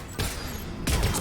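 Turret firing in the video game Mass Effect 3, two loud bursts of rapid gunfire about half a second apart, harsh and close.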